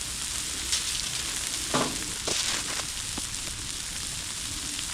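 Burger patties fry on a backyard griddle with a dense, steady sizzle, broken by a few brighter crackling pops and scraping stirs, close and fairly loud with no talk.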